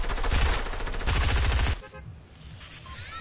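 Gunfire from an SMG in a video game rips out in two fast automatic bursts, loud and close, then cuts off abruptly into quiet game ambience.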